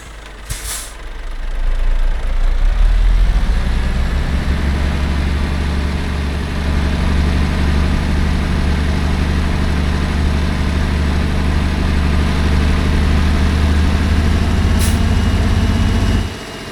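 A heavy truck in Euro Truck Simulator 2 idles with a loud, deep engine rumble that holds steady as it pulls forward, opening with a short hiss of air and ending with another brief hiss before the engine note drops.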